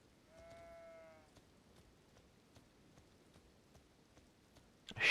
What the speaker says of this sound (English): Can't go wrong with sheep.